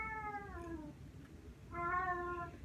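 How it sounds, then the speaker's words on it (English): A male cat meows insistently in two long, drawn-out calls separated by a short pause, close and fairly loud over a low background rumble. "This meowing. Day and night. It's nonstop."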